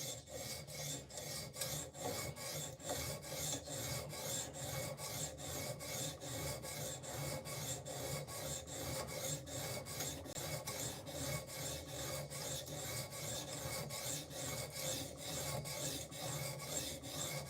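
Knife blade of D2 or DC53 steel stroked across a PDT USA sharpening stone, producing a steady, rhythmic rasping scrape repeated many times, close up and alone with no voices.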